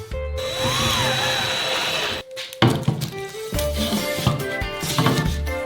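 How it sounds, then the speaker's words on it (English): An electric jigsaw cuts plywood sheets for walls, a loud buzzing whine that stops briefly, then resumes with rougher, choppier rasping and knocks toward the end. "Now you need to cut the plywood for the walls with an electric jigsaw."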